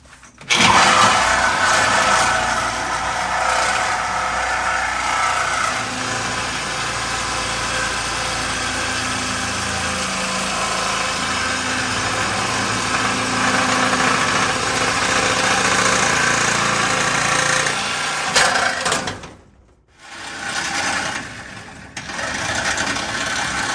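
A reciprocating saw cuts off a broken weld. A loud, continuous buzzing roar runs steadily for about nineteen seconds, stops briefly, then starts up again, with no voices over it.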